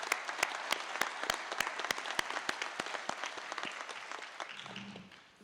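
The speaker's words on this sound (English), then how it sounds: "Give your instructors a round of applause." An audience at a Lincoln University law enforcement training academy graduation gives the instructors a round of applause: steady, moderately distant clapping that fades out toward the end.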